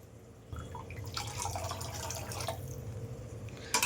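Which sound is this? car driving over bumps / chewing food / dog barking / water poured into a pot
water poured into a pot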